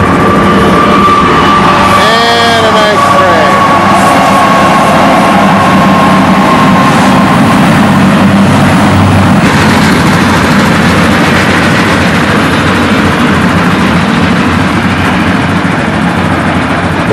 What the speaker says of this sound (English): just as you start your schmeal, big old train comes by